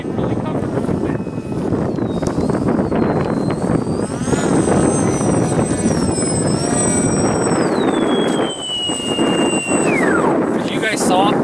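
A Cyberplanes F-117 stealth RC plane glides in slowly to land, its electric motor whining and shifting pitch over steady wind noise, with a person talking throughout.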